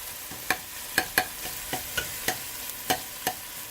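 Tomatoes and vegetables cook in a pan for vegetable pulao under a soft frying hiss, punctuated by about ten sharp, evenly spaced spoon taps and scrapes as the mixture is stirred.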